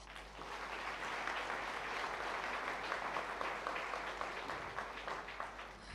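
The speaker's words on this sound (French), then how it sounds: "Vous pouvez les applaudir." An audience at a public debate-style event applauds steadily for the full stretch, a dense, even wash of many hands clapping together with no talk over it.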